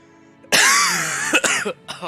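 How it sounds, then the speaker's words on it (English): A single loud, harsh cough bursts out, followed by a couple of shorter rasping coughs, close to the microphone with no talking. "Why am I coughing?"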